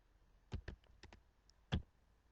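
Several keystrokes on a computer keyboard, a few quick clicks in loose bursts with short gaps, close and fairly quiet over a low background.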